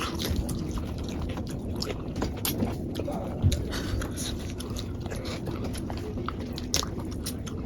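Someone eats shrimp curry with sweet pumpkin during an eating challenge, with continuous close chewing and biting, soft crunches and wet mouth sounds under a steady background murmur.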